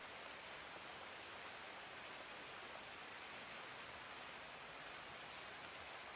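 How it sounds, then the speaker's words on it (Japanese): Long, steady rainfall hisses evenly and continuously, a dense, unbroken wash of drops with no voices. "長い雨だな。"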